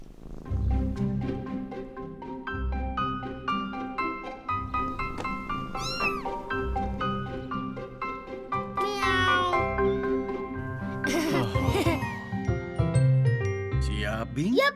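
A cat meows repeatedly in short, varied calls, close by, with a soft purr and voices talking in between over background music.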